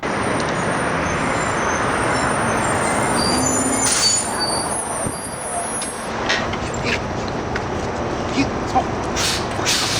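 City buses and traffic rumble past on a busy street, a loud broad engine roar with hissing brakes and a fading pass-by, while someone talks over it.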